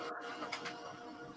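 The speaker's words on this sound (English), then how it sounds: "Did my printer sound really noisy there?" A home printer runs steadily at low volume, a continuous mechanical whir with a couple of brief rattling pulses partway through, alone without voices.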